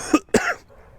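Two sharp coughs from a woman at home, close and fairly loud, the second slightly longer with a throaty tail, followed by quiet room tone.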